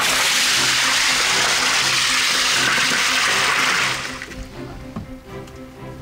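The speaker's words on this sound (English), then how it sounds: "I've got the plug open on this cooler, and I'll just dump this drying ice water right on top" Ice water pours out through the open drain plug of a cooler in a loud, rushing gush that abruptly tapers into faint trickling and dripping, close by and without talk.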